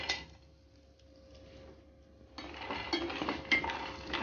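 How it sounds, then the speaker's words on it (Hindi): Raw peanuts roasting in desi ghee in a pan, a quiet low sizzle that jumps to louder, busier frying and scraping of the pan partway through, with no one talking. "अच्छे से इसको भी गोल्डन ब्राउन होने तक हमें भूनना है।"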